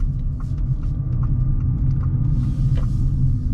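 A Wuling BinGuo electric car makes a tight U-turn, giving a steady low road rumble and tire noise with a faint hum. The sound stays even and close throughout, with no talk.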